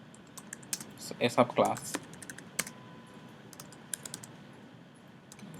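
Quick, close keystrokes on a computer keyboard as code is written, with a dense burst of clicks in the middle and scattered taps around it, while a person talks over the typing.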